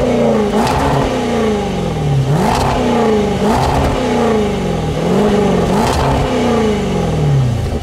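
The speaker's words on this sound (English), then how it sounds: "with this big V8, this thing sounds pretty good with the sport exhaust" A 2020 Range Rover Velar SVAutobiography with a big V8 and sport exhaust revs hard several times in a row, each blip rising and falling in pitch, loud and close with no talking.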